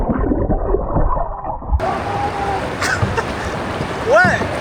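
An action camera plunged underwater during kayaking: muffled gurgling and sloshing water, dull and enclosed at first, then brighter bubbling and a swirling whoosh near the end, with faint muffled voices.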